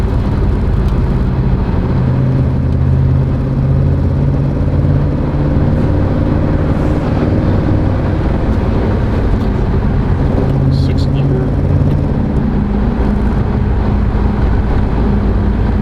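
Audi B7 RS4 with a manual transmission and aftermarket coilovers, heard from inside while driving: a steady, loud engine drone with shifting pitch through rev-matched downshifts, plus road and wind noise throughout.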